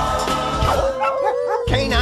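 Cartoon dogs from the 101 Dalmatians intro yip, bark and howl in quick bursts over a loud music track, with pitch-bending whimpers and yelps crowding together.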